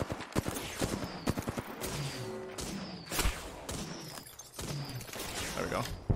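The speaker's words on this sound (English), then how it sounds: "We're getting shot from three sides." Rapid gunfire from several directions in an Apex Legends match crackles in dense bursts alongside impacts and game effects, while a player talks over the action.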